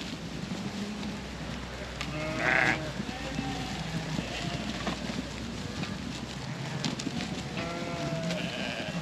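Easy Care shedding ewes and their lambs, some crossed with Texel, bleat in a field, with several calls at varying distances over gusty wind noise and occasional talk nearby.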